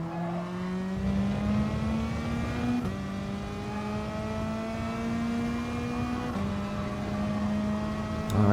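A Volkswagen race car in a racing video game at Suzuka pulls hard out of a hairpin, its engine rising steadily through two upshifts, loud and continuous with no talk.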